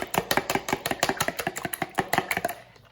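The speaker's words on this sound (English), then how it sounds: "I'm just going to go in here whisk that together with a fork" A fork whisks ingredients for homemade naan dough in a bowl, giving a quick, steady run of light clicking strokes, close and fairly loud, with no voices.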